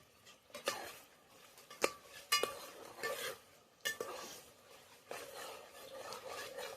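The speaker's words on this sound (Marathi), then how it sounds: "चांगलं आपण परतून घेऊया त्याच्यामध्ये." Mutton curry is stirred and sautéed in a pot over a village chulha, with irregular metallic scrapes and knocks of a spoon against the pot and a soft sizzle, fairly close and without talk.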